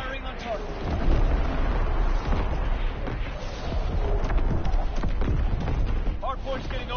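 Artillery fire booms in the Call of Duty WW2 multiplayer game, heavy low thuds and rumbling blasts rolling continuously beneath radio-style voice chatter and assorted battle noise.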